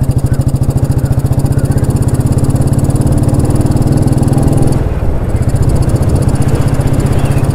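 Royal Enfield Bullet 350 single-cylinder motorcycle engine running close and loud, a steady fast thumping pulse with a brief dip midway, no voices.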